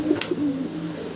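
A male fancy pigeon coos close by in a short, throaty rolling call, with a brief sharp tap near the start and a faint steady hum underneath.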